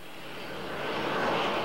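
An airplane engine drones in flight, a broad rushing roar that swells gradually louder over a short stretch, steady and with no voices.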